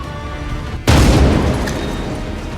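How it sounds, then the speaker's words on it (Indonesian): A grenade explosion blows up a room in an action film. After a faint background, one sudden loud boom hits and trails off into a lingering rumble. "Lisa juga tidak lupa meledakkan setiap ruangan yang ada di sana dengan sebuah granat"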